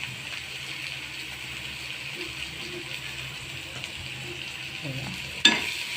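Onion frying and being stirred in a pan while making a tomato chutney: a steady soft sizzle runs throughout, with a few faint scraping stirs and one sharper clink near the end.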